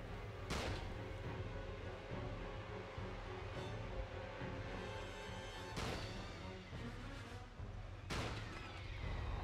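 Gunfire in the video game Peter Jackson's King Kong: three loud sharp shots spaced seconds apart over a dense, constant wash of jungle and game ambience.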